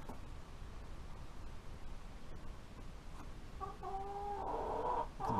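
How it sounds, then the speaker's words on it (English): Chickens squaring off in a fight give a faint clucking, then louder rising squawks near the end over a steady low background. "Chicken fight."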